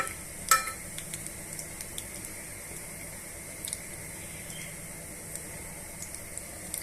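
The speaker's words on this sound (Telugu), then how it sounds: "ఆ పల్లీల్ని ఈ నూనెలో యాడ్ చేసుకోవాలి" Peanuts fry in hot oil in a pan, a soft, fairly quiet sizzle with a sharp clink near the start and scattered light taps, no voices.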